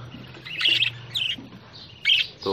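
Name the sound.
budgerigar (budgie) chicks and birds chirping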